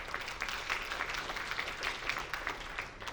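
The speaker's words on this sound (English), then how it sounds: "If we can give them a round of applause." A meeting audience claps for a city mayor and a council member, dense, steady applause with scattered individual claps standing out, at moderate volume and without voices over it.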